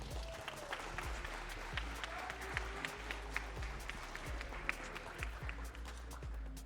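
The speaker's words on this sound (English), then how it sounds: "Round of applause for him." An audience applauds at the COE 2026 Catch Tournament grand final, a faint, steady patter of clapping with a few sharper claps standing out.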